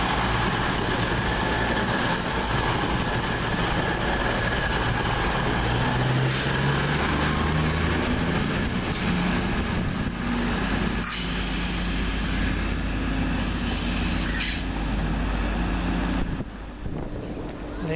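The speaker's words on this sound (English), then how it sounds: "Here comes our train." Train pulls into a station at Stone, its low engine rumble and rolling wheels filling the scene, with wheel squeal and screeching tones rising over the steady roar as it arrives close by.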